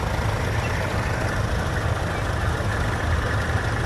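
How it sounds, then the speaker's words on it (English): A tractor fitted with a Perkins P6 diesel engine idles steadily at a steam rally, a low, even, continuous rumble heard near and alone. "You listen to the crackle that comes from this tractor. This is the Perkins P6, one of my favourite engines"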